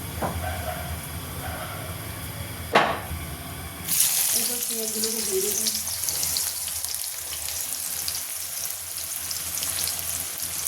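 Bay leaf dropped into hot oil for a mutton and potato curry gives a sudden loud sizzle that settles into a steady close hissing fry, after a quieter stretch with a brief clatter.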